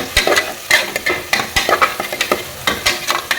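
Onions fry in a pan for tomato saaru, with a close, busy sizzle broken by frequent scraping stir strokes and occasional spatula knocks against the pan.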